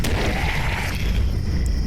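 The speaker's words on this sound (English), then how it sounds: "killed a lot of things in that explosion" Explosion in the game Cataclysm: Dark Days Ahead, a loud deep boom with a bright blast at the start that settles into a low rumbling decay, close and alone.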